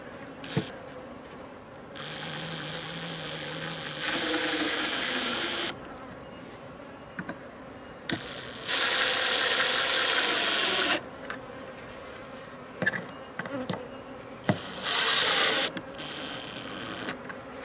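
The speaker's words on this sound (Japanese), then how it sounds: "女王蜂の匂いをこっちから吐き出すように蜂が空気を送るから、" Japanese honey bees fanning their wings at a hive box to spread queen scent, producing bursts of loud buzzing that swell and fade in separate stretches, with clicks and handling knocks between them.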